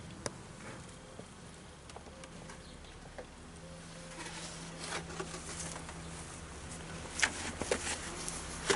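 A honeybee swarm during a hive transfer into a chalet hive, a continuous low buzzing drone that grows busier toward the end, scattered with light taps and handling knocks.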